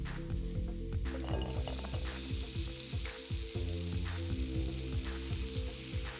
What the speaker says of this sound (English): Heat the butter and olive oil. Add the sliced onions.